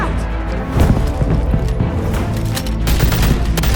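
Rapid AK rifle gunfire in a Batman video game, a loud burst of close, booming shots firing in quick succession with impacts and crashes mixed in.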